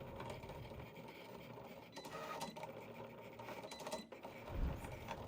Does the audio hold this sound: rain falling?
no